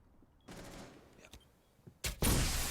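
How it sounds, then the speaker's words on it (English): Gunfire in a Rainbow Six Siege esports qualifier match: a few sharp, loud shot bursts, with the heaviest volley near the end over quieter game ambience. "He now is shooting against Slash, and he has no more ammunition"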